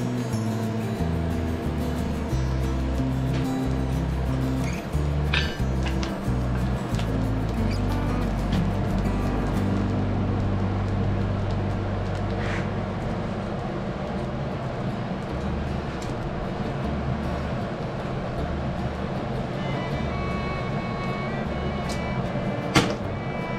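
A crank-driven air blower feeds a coal blacksmith forge, making a steady, close whooshing rumble with a low hum that runs the whole time, with a few faint clinks over it.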